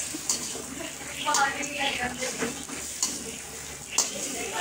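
Oil sizzles steadily in a pan while a utensil stirs a tempering with tomatoes for mutton curry, with a few sharper scraping clicks near the start and end.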